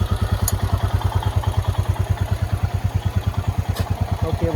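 A motorcycle engine idles nearby with a steady, fast thumping pulse and light mechanical clatter, running alone without talk throughout.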